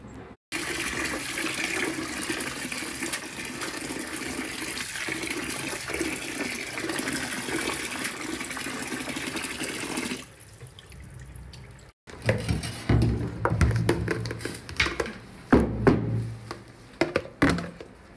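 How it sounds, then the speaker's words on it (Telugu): Water splashing and sloshing as gongura leaves are washed in a tub, a steady wet rush that gives way to irregular drips and splashes, close by with no voices. "దీన్ని వాష్ చేయాలి, టబ్లో వాష్ చేసి డ్రై చేసి అప్పుడు ఇక్కడ ఆరిపోయాలన్నమాట"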